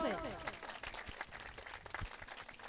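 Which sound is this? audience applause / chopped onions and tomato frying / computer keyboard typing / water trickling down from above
audience applause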